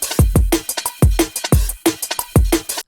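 A punchy, unfiltered hyperpop drum loop plays with deep booming kicks and crisp bright hits in a bouncy, repeating pattern. It is loud and alone.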